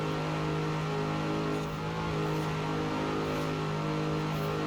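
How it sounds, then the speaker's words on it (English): Sustained car engine roar at a drag race launch in Forza Horizon 4, a steady loud hum with strong tonal harmonics running throughout without pause, no talking. "hope you can get your revs right, and then it's time to launch"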